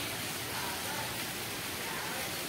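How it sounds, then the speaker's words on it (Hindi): Heavy monsoon rain falling at a school, a dense even hiss of downpour that stays constant and fairly quiet throughout, with no voices over it. "कितनी बारिश हो रही है।"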